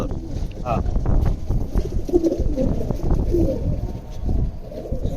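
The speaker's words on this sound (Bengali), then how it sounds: "এটা কি কবুতর আপনার ব্ল্যাক টাইগার কবুতর" Soft, low cooing of Black Tiger pigeons repeats amid a steady background murmur, with a few faint chirps near the start.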